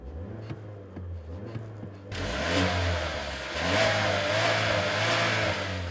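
A 2016 Chevy Cruze's 1.4-liter direct-injected, turbocharged inline-four, rated at 153 horsepower, idles with a low hum, then revs sharply and holds a higher, rougher drone, close and loud.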